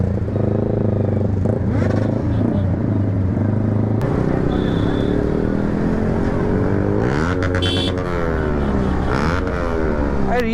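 Loud-exhaust motorcycles ridden by a group of bikers roar and rev close by, with rising and falling engine pitch as they pass and accelerate, continuous throughout.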